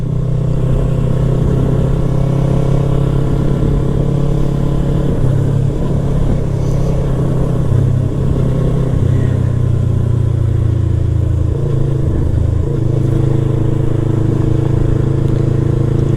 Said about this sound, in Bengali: এইটা কিন্তু যথেষ্ট পাওয়ারফুল একটা বাইক